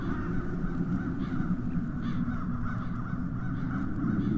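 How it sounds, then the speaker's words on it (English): Crows caw in the video game The Dark Eye: Chains of Satinav, harsh calls repeating over a steady, low ambient backdrop, with no talking. "Those crows stem from the nether hells."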